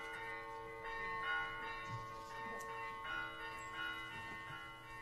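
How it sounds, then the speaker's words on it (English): Bells chime in steady sustained ringing tones at a school board meeting, faint and layered with overlapping strikes and lingering resonance. "if we had a bell for every child who met grade level expectation last year, here's what it would sound like: 867 chimes"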